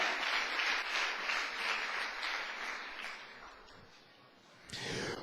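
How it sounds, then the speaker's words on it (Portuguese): Applause from a Pentecostal church congregation during a sermon, a dense wash of clapping that fades gradually, then swells again briefly near the end. "Outra salva de palmas para o Senhor."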